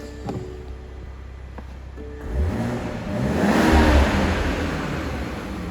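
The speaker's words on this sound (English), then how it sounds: "I'm going to pop it back into sport mode and give you a little sound demonstration of that fantastic engine." A BMW 540i M Sport with xDrive four-wheel drive, set in sport mode, revs its engine close by. A faint idle builds into a loud, rising rev that holds, then eases off.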